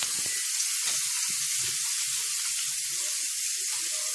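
A steak frying in a pan, a loud, continuous hissing sizzle up close, with faint low thumps and bubbling under the steady hiss and no talk.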